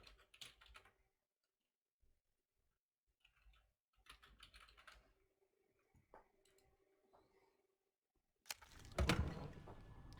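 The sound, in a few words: typing on a computer keyboard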